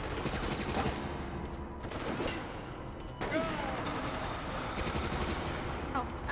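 Constant gunfire in the shooter Resident Evil: Operation Raccoon City, a dense burst of automatic fire that runs nonstop, loud and close throughout.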